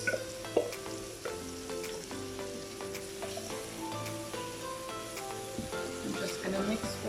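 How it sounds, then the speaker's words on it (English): Tomatoes go into a sizzling lamb curry in a pan, with continuous frying crackle, utensil clinks and stirring, while music plays softly underneath. "Now we're going to be adding our tomatoes."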